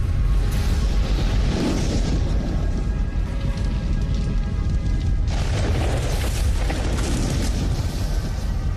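A World War One tunnel mine detonation under German trenches in Flanders, heard as a loud sustained rumbling roar of blasts and debris with a fresh surge partway through, alone without talk.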